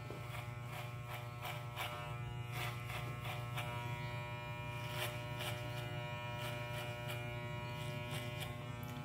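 An electric hair clipper buzzes steadily and continuously while cutting hair for a subtle modern mohawk, a close, even drone with faint rhythmic clicks of cutting.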